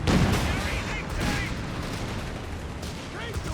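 Gunfire and distant artillery booms from a Company of Heroes 3 battle between the Afrika Korps and British forces, a dense, continuous rumble of shots and blasts with short bursts, with no clear voices.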